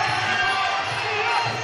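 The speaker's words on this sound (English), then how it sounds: "the crowd absolutely going wild here at the Coburg Town Hall now" A packed crowd at a kickboxing fight in Coburg Town Hall roars and cheers wildly in a continuous, dense wall of noise.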